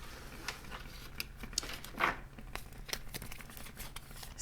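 A deck of oracle cards is shuffled in soft, scattered papery riffles and scrapes, quiet and close, with one brief louder flurry partway through.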